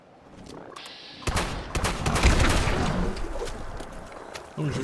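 Rapid bursts of gunfire in the video game Fallout 76, fired at critters, crack out loudly in a dense volley over a couple of seconds and then trail off.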